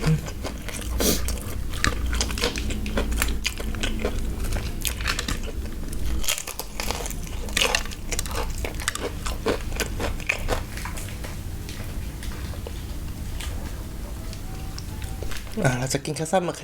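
Crispy fried chicken crunches loudly and steadily in a close-up run of chewing and biting, with brief talk over it.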